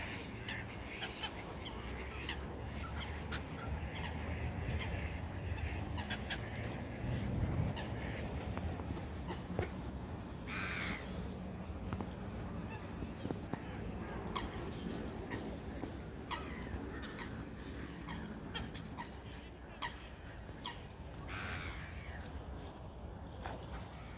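Birds at a lake call intermittently at a distance over a constant outdoor background, with a few louder squawks and honks breaking through.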